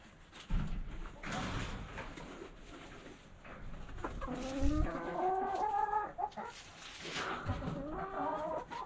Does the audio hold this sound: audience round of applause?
no